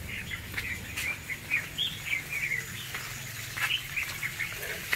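A pair of prized ornamental birds in an aviary give repeated high chirps and short calls over a steady low rumble of running water, fairly close and continuous.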